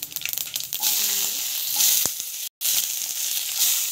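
Mustard seeds, cumin and lentils sizzling in hot oil in a pan while tempering for avalakki upma: a steady loud hiss and crackle, close up, with a brief cut in the middle.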